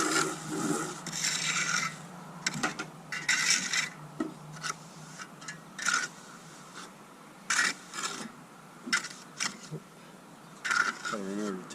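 A trowel scrapes and smooths wet cement on a border fence, making repeated close rasping strokes in irregular bursts, with a voice talking briefly between them.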